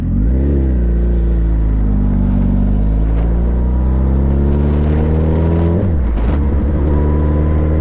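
A stretched Suzuki Hayabusa motorcycle accelerating hard, its engine note climbing steadily in loud sustained revs, dipping briefly near the end as it shifts, then pulling again.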